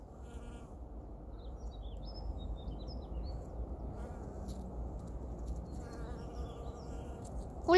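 Honeybees buzz steadily among blooming spring flowers on a farm, a soft continuous drone close by with a few faint bird chirps in the background.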